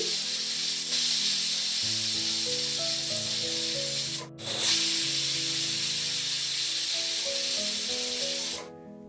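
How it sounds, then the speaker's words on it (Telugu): Loud, continuous hiss of steam escaping from a pressure cooker on high flame cooking gongura curry, with a faint whining tone, briefly cutting out twice. "కుక్కర్ మూత పెట్టేసి హై ఫ్లేమ్లో మూడు విజిల్స్ వచ్చే వరకు ఉడికించుకోవాలి"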